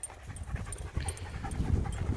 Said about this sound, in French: C'est un bon chien, ça.